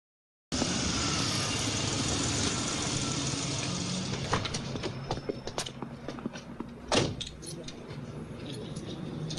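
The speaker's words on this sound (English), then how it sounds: "The crescendo being that horrible car chase scene." Car chase scene from the film Alligator II, with a Lincoln: a continuous roar of engine and road noise with scattered sharp bangs and clatter, plus a louder burst near the end, loud and busy throughout.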